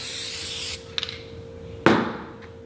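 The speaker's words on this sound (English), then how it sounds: "Then I spray my board." A short hiss of spray onto a screen printing board, then a couple of faint taps and a second, louder burst of spraying that fades out.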